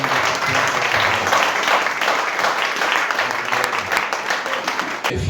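Congregation at an evangelical church baptism service applauding steadily and loudly throughout, dense continuous clapping with a few voices mixed in.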